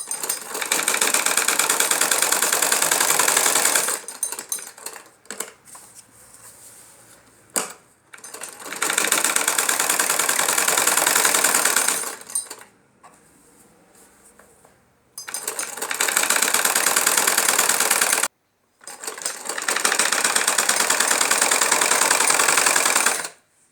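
A sewing machine stitches a double seam on a belt-style salwar, running loudly and close in several long continuous bursts separated by short pauses.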